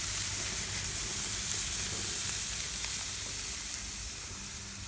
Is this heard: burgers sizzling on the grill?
yes